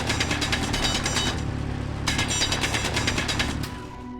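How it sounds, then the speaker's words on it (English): In Space Engineers, a hand drill grinds out rock as a loud, steady rattling mechanical buzz with rapid pulsing, briefly easing then surging again before tapering near the end, with no voices. "Looks like we gotta drill out a bit more."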